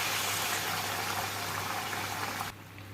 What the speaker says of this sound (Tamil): இந்த பருப்பில் தண்ணி தான் இப்படி ஊற்றுறோம்